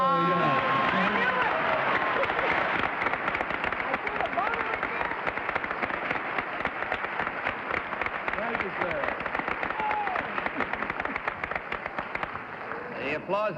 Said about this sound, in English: The applause is merited in more ways than one